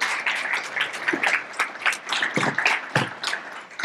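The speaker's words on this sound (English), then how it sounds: "can we give our friends here another big round of applause for useful information?" An audience at a morning community gathering claps steadily in a dense patter of many hands, near and fairly loud, with a few sharper individual claps standing out.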